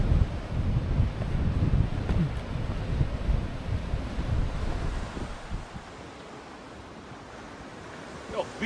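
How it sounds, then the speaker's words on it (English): Strong coastal wind buffets the microphone over crashing ocean waves on a walk down toward a sea cave in Walker Bay Nature Reserve, loud and rumbling at first, then easing to a quieter surf wash. "hopefully as I go down further the wind will become less hectic"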